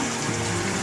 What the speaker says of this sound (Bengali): চিকেন স্টকের জলটা আমি একটু দিয়ে দিচ্ছি এর মধ্যে।